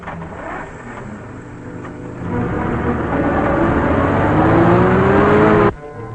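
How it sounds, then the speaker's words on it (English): A car approaches along a highway, its engine drone steadily rising in loudness and pitch over several seconds before cutting off abruptly. "Car coming."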